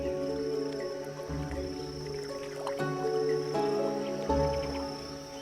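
A group of capybaras wading across a river in the Pantanal, soft splashing and squishing water sounds over a steady background hum, with a few louder sloshes spaced through the crossing.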